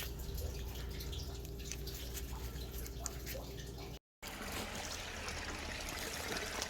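Water trickles and drips steadily through an old, rotting Bermico floor drain in a flooded basement after flexshaft clearing, a close, continuous wet flow with a brief dropout near the middle.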